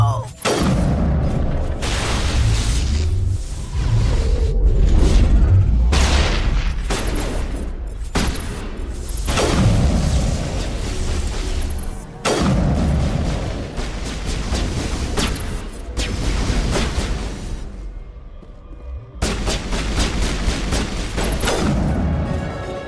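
Grenade blasts and combat from the Mass Effect video game: repeated loud explosive booms and bursts of gunfire rip through a busy battle, with sharp impacts spaced every few seconds and brief quieter gaps.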